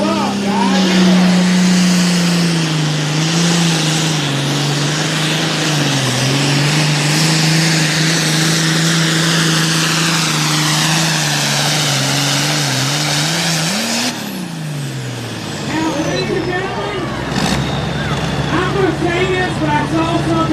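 Tractor-pull truck engine at a Lumberton truck and tractor pull roars loud and sustained, its pitch climbing and wavering for about fourteen seconds before dropping off, then surging again amid crowd noise and an announcer's voice.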